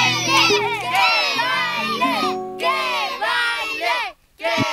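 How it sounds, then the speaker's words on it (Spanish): A group of kids shouts loudly in chorus, their high voices chanting in a rhythmic, up-and-down pattern with a brief pause near the end before they start again. "batiendo palmas al unísono y gritando a coro"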